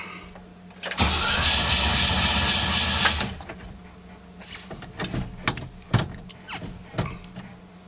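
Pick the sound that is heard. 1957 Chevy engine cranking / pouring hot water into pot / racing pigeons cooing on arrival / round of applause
1957 Chevy engine cranking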